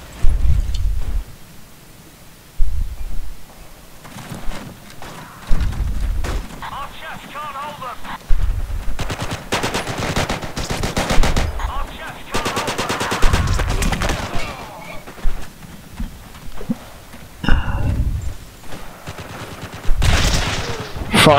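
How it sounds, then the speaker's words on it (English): Bursts of machine gun fire and heavy gunfire in a Forgotten Hope 2 battle at Pegasus Bridge, loud and sustained with explosions, rattling on and off throughout. "A machine gunner in front of me"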